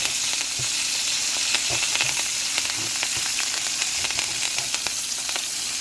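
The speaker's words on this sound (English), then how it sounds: "Now I'm starting to go ahead and infuse it with a little bit of rosemary flavor, get it in the oil a little bit, fry it up" Steaks fry in hot oil with rosemary, a dense steady sizzle with small crackles and pops throughout, close and loud, no voices.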